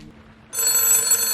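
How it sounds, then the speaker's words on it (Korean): A telephone starts ringing partway through, a bright, sustained electronic ring that stays steady and fairly loud to the end, in a film set in Kotor. "아침부터 걸려온 뜻밖의 전화로 새로운 전환점을 맞게 되는 폴"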